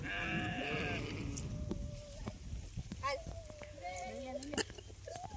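Sheep and goats grazing on a relative's farm plot bleat several times in wavering calls, some nearby and some farther off, while people talk over them.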